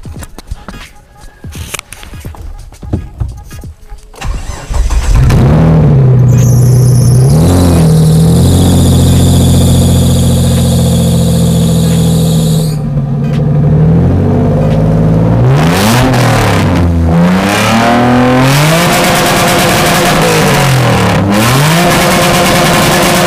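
Bugatti Vision Gran Turismo parked in a village in Madura, its engine idling loud and close, then revving through several rising and falling sweeps, with a high whine partway through and a few voices early on.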